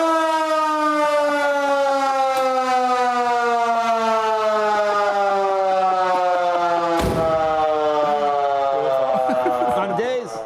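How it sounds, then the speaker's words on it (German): A loud, close fire engine siren in California wails continuously, its pitch sliding slowly downward, with a brief sharp jolt partway through. "Unterwegs habe ich dann die Sirene eingeschaltet und völlige Panik brach aus"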